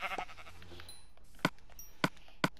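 Sheep in a Minecraft-style video game bleat in short, sharp bursts, three distinct calls spaced about half a second apart after a brief stretch of speech at the start.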